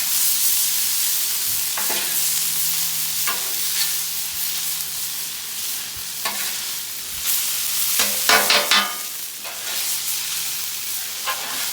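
Thai chicken noodles stirred and fried in a hot pan, a constant close sizzle and hiss with repeated scraping and tossing strokes of the utensil.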